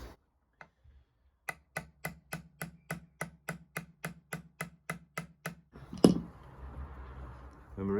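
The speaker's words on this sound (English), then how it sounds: "I'm using the ball side of the hammer just so I don't hit the actual guitar." A hammer's ball end taps string ferrules into an electric guitar body in a steady run of about fifteen close, crisp, evenly spaced clicks, followed by a louder knock and some handling noise.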